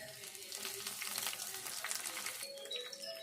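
Spices sizzle steadily in hot oil for a tempering with curry leaves and coriander, a dense hiss with small pops, fairly soft and continuous.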